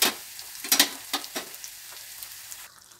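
Onions sautéing in oil with mustard seeds, urad dal, cumin and curry leaves for a raw banana kootu, giving a soft steady sizzle with a few louder crackling pops early on, close and alone.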